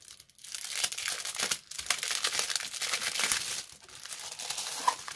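Crinkly plastic packaging of a sheet of elephant rubber stamps is torn open and handled close up, with rustling and tearing bursts that run nearly continuously and one short pause.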